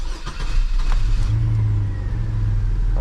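A Chevrolet S10 pickup truck with engine trouble cranks and catches, settling into a steady idle with a low hum that holds for the second half, close and fairly loud.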